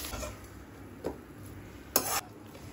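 Green chillies frying in a pan, a faint steady sizzle with occasional stirring scrapes and a brief louder clatter of a utensil.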